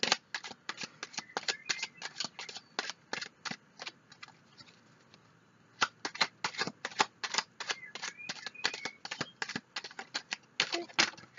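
Cards from a reading deck are shuffled and drawn, making quick bursts of close, crisp riffling and snapping that briefly stop midway before resuming, all fairly quiet.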